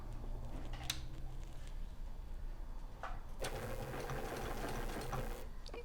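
A sewing machine stitching during free motion quilting, its steady mechanical whir running throughout and growing louder and busier partway through, close and alone without talk.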